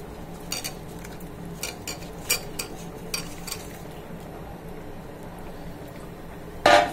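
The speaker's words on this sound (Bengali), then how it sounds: "এবার আমি আমার হলুদ আর লবণ দিয়ে মেখে রাখা ঢেঁড়সগুলো দিয়ে দিচ্ছি।" Okra coated in turmeric and salt goes into a pan and gets stirred, giving soft scraping and a few sharp clinks of a utensil against the metal over a low, quiet background, then one louder clatter at the end.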